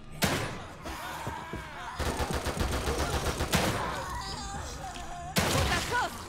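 Bursts of gunfire in The Evil Within 2 game: sharp shots and rapid volleys crackle across the stretch, with loud blasts near the start and end amid game sound and voices.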